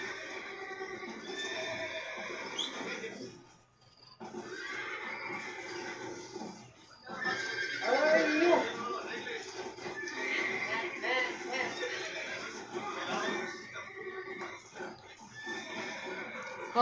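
Horses in the online Red Dead Redemption game on PS3 neigh and whinny while hooves clip-clop, repeated and fairly close, under a running mix of game sound and people talking.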